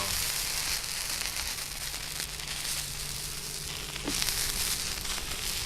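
A heated knife sizzles steadily as it cuts into a zombie dummy, a continuous hiss with a sharper burst near the end, close and moderately loud.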